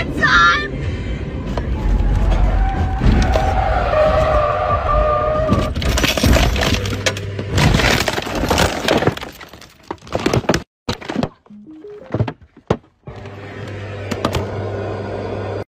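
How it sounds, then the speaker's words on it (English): A car skids on gravel and flips over in a crash: loud crunching, cracking and breaking, with glass-like rattles and scraping. Voices shout and talk over it, then it breaks into choppy bursts before the noise returns. "So apparently the car slid on the gravel and then flipped over like this."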